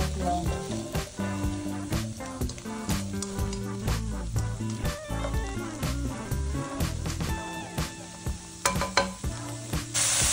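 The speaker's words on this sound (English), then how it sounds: "and we fry it in that oil" Meat frying in oil in a pan for homemade dog food, a steady sizzle with frequent stirring clatter and scraping, loud and close throughout, with no talking.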